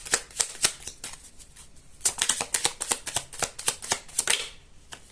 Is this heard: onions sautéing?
no